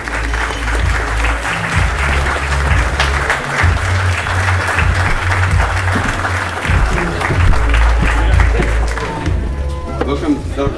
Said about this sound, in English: Let's give a big round of applause to Patrick Schofield.